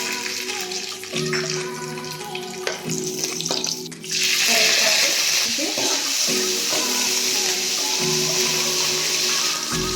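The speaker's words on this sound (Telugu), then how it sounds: "సో వీటిని గోల్డెన్ బ్రౌన్ కలర్ వచ్చేంత వరకు వేయించుకోవాలండి." Onions and whole spices, including shahjeera, frying in oil as the base for a prawn dum biryani. Clinking and stirring at first give way to a sudden loud hiss partway through, which then holds as a steady close sizzle.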